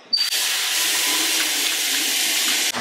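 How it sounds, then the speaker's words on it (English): Running tap water pours steadily as hands are washed, a close continuous hiss that starts abruptly and cuts off near the end. "I wash my hands"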